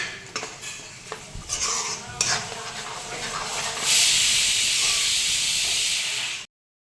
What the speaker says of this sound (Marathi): आता हा रस्सा मी मटण ह्याच्यामध्ये ओतून घेते आणि हा आपल्याला सुका करायचा आहे.